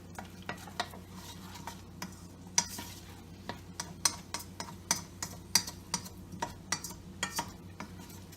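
Onions sauté in a pan with a soft sizzle beneath a steady run of crisp, rhythmic clicks and taps from a utensil, close and fairly quiet, with no talking.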